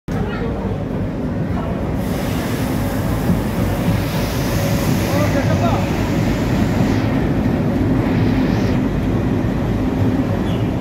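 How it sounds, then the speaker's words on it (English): A train pulling into a station en route to Goa, with a continuous loud rumble of wheels and carriages and a brighter hissing wash that comes and goes, heard close and up front. "Train has arrived."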